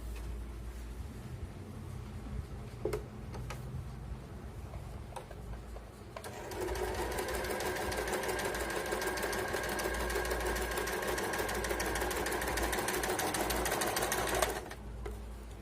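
An Usha sewing machine runs a steady straight stitch in one continuous stretch of about eight seconds, starting abruptly after a quiet spell with a few faint clicks and stopping just as suddenly.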